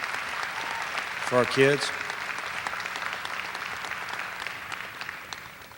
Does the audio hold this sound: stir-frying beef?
no